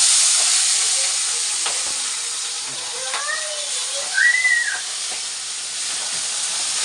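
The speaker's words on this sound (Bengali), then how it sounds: "এই যে দেখো, তেলটা গরম হয়ে গেছে। এর ভিতর আমি পুঁটি মাছ দিয়ে দিলাম।" Puti fish drop into hot mustard oil and set off a loud, close, continuous sizzle, with a few faint vocal-like squeaks in the background.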